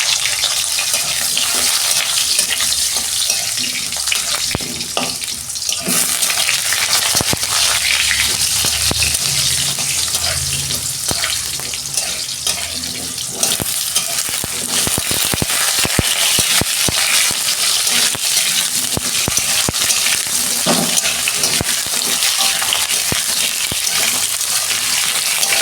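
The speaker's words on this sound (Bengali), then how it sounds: "আমি আলু আর বেগুনটা ভেজে নেব।" Potatoes and eggplant frying in oil with black cumin seeds in a home kitchen, giving a steady, loud sizzle and crackle that runs unbroken throughout, with occasional stirring scrapes and no voices.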